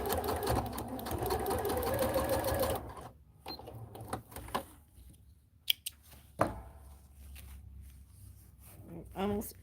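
A sewing machine stitches seams on a homemade Belle princess costume, running in a steady close whir for about three seconds before stopping, followed by scattered clicks, taps and handling noises.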